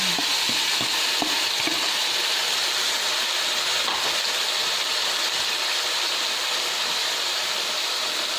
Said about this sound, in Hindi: अब इसको थोड़ा भूनेंगे।